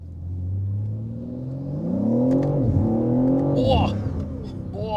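Manhart MH3 650 BMW M3 Touring, a tuned 650-horsepower wagon, pulls hard with its engine note climbing and sweeping through the revs, loud and close, overlapping a voice.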